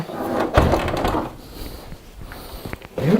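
Side door panel of a Silverstone Raven RV05 PC case sliding shut and latching, a short scraping slide with a couple of soft clicks, close and fairly quiet, no talk.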